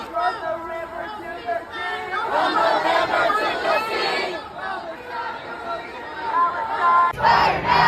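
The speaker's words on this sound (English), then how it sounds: "Very, very big crowd of protesters marching to his house." Large crowd of protesters marching outside Joe Biden's Delaware home, a dense roar of overlapping shouting and chanting voices that swells midway, with a brief louder burst near the end.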